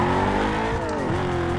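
A stock police Corvette in Need for Speed Most Wanted roars at speed, its engine note sliding down through a gear change with tire squeal, loud and continuous with no voices.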